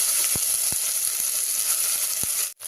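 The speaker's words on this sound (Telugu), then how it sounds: "మనకు ఆనియన్, పచ్చిమిర్చి ఇవన్నీ కూడా మనకి ఫ్రై అవుతుంది." Onion and green chilies frying in a pan for a Telangana-style cucumber curry, a steady bright sizzle with a few soft stirring knocks, close and continuous, no talking.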